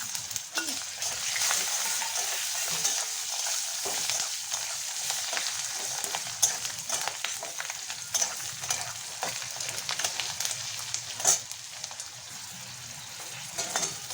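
Cashews, ginger, garlic, chili and a little black pepper frying in a pan with whole spices for butter paneer, giving a steady close sizzle with faint stirring scrapes and no talk.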